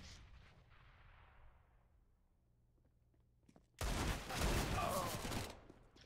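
Rapid bursts of gunfire in a Counter-Strike: Global Offensive match with upgraded pistols like the Deagle and Five-SeveN, a loud dense volley erupting after a quiet stretch of faint game ambience and lasting about two seconds.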